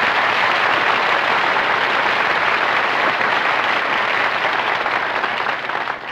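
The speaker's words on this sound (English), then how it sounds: "Who's applauding you?" Audience applause fills a room, a dense, steady wash of clapping that holds loud and even throughout, easing slightly only at the very end, with no voices over it.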